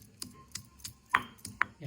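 Garlic and ginger pounded for a village-style buttermilk kadhi cooked in a clay pot: several sharp, irregular knocks close by, spaced apart, with no talk.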